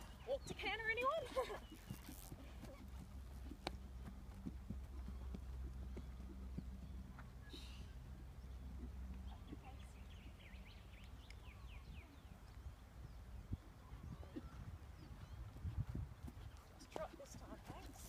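A horse's hooves thud softly in the distance, moving from a walk into a canter, with a murmur of wind and faint background noise throughout.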